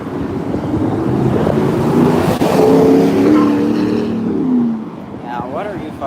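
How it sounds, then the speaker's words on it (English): Loud car roaring past on a street, engine noise rising and falling with wind buffeting the microphone, heard up close from a pedestrian's position. "I hate when people's cars are loud like that."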